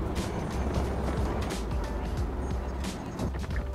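A car drives along a residential road in a Southern California housing development, giving a steady interior rumble of engine and road noise with soft tire swishes throughout.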